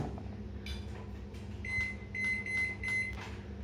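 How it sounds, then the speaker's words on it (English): A microwave oven hums steadily while cooking a mixed scrambled egg, with a run of short high beeps near the end over the low drone. "And pop it in the microwave."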